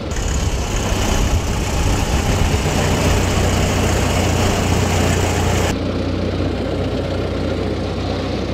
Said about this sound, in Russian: Двигатель вроде работает нормально